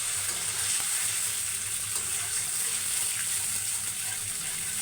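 A blended paste of tomato, onion and ginger fries in a pan, producing a steady close sizzle and hiss with faint stirring, continuous and even with no talk.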